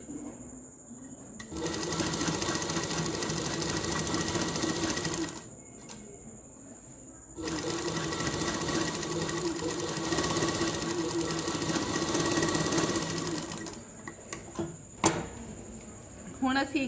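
Sewing machine stitching a kameez neck along the edge of its buckram, a fast, steady mechanical whir in two long runs broken by a short pause, with small clicks and handling noises as it stops at the end.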